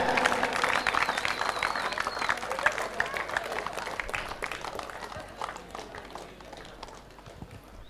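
A crowd claps for a finalist team at a cricket final, a dense patter of applause that is strongest at the start and slowly thins out, with voices and an announcer's talk mixed in over it.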